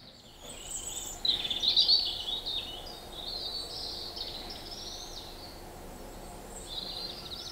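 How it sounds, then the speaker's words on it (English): Woodland bird life at a conservation site on the Cefn Amwlch estate: a few thin, high chirps and calls, moderately close, over a quiet, steady outdoor background with no talk. "you can hear the bird life, that is true"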